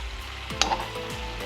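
Salmon fillets frying skin side down in a pan give off a steady, close sizzle, with a brief utensil clink partway through.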